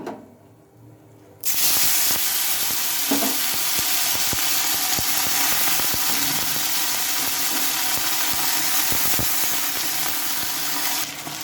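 Raw potatoes drop into hot oil with a little cumin tempering in a kadai, setting off a sudden loud sizzle that holds steady and close, with occasional stirring scrapes, and no talk.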